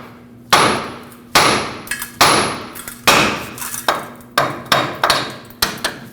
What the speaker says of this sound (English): using a hammer, tap the knuckle right here, and that'll break the tie rod stud free from the knuckle